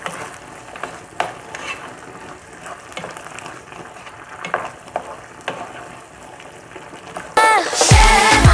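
Okra sauce being stirred in a pot after salt is added, soft scraping and bubbling sizzle at moderate level, ending in a louder burst of clattering stirring near the close.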